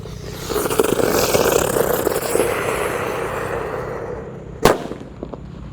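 A red firecracker buried in the ground fizzes and hisses steadily for several seconds, fading away before a single sharp bang cracks out near the end, followed by faint after-crackles.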